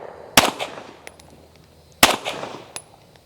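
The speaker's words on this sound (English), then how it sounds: "All right, let's shoot at the body again." Pistol fitted with a Cyelee Optics Wolf EDG enclosed emitter optic fired at a target: two sharp, loud gunshots about two seconds apart, each followed by a short echoing tail, outdoors with no talk.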